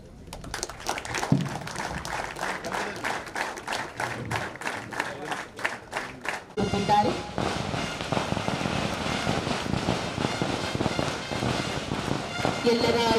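Firecrackers bursting at the opening of the 2025 Mysuru city police annual sports meet, a rapid string of sharp cracks, then a denser crackling barrage mixed with crowd applause.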